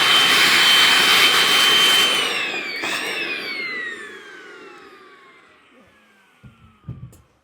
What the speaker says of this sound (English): we'll grab a vacuum cleaner.